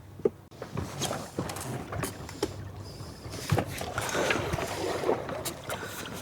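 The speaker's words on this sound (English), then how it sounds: "This is a 55-pound trolling motor, 12 volts." 55-pound 12-volt trolling motor running on an inflatable dinghy, a low steady motor hum under water splashing and wind noise outdoors, with occasional knocks.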